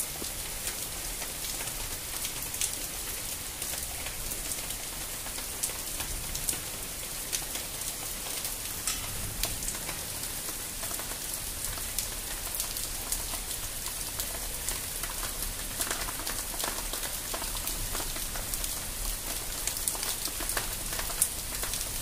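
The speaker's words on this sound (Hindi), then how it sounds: "तो आप देख सकते हो कि कितनी बारिश हो रही है हमारे यहाँ पे।" Heavy rain pours steadily onto surfaces at a home, a dense continuous hiss sprinkled with sharp drop impacts, unchanging for the whole stretch and with no voices.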